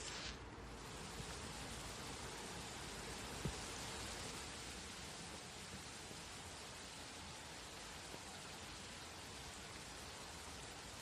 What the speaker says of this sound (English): those are the sprinklers that had me fooled